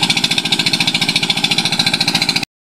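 A Mitsubishi farm machine engine runs loud and close during land preparation, a fast steady chugging pulse with a rattling mechanical edge, cutting off abruptly near the end.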